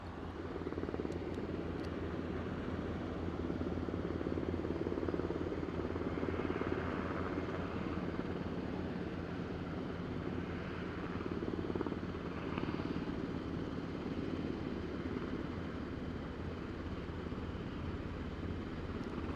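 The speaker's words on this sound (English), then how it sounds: "In fact, let's wait for the helicopter to clear the posts." A helicopter runs steadily at Aberdeen airport, a constant low rotor and engine drone heard from a moderate distance, quiet and unbroken, with no talk.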